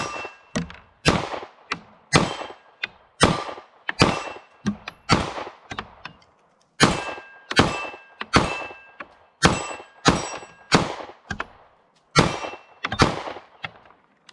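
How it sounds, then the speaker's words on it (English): Sig M18 pistol shots fired outdoors, a long string of sharp loud reports in quick uneven bursts, with brief pauses between groups and no talking. "we're going to shoot a couple more through the Sig"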